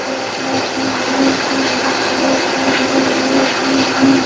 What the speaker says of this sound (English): Sorry about that noise. I had to got blending.